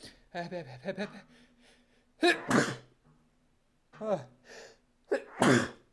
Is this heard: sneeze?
yes